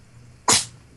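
One abrupt, breathy sneeze erupts close to the microphone in a quiet room during a Dark Souls-themed tabletop game session, cutting off quickly with no talk over it.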